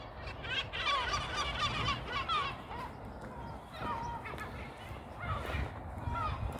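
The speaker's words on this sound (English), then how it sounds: "And the gulls have come in from the sea, scavenging." Gulls in from the sea call repeatedly while scavenging around a town on bin day, a cluster of harsh squawks over low background rumble, fairly distant.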